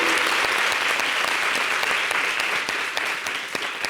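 Dense, loud applause from a studio audience welcoming a new governess on a French TV show, a continuous roar of clapping throughout.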